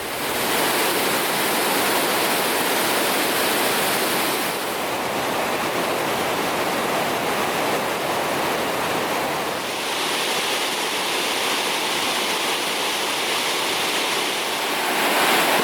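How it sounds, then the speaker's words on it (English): Spokane Falls on the Spokane River in downtown Spokane, Washington roars in a dense, constant rush of falling water, loud and close, with slight shifts in tone but no letup or voices. "This is Spokane Falls in downtown Spokane,"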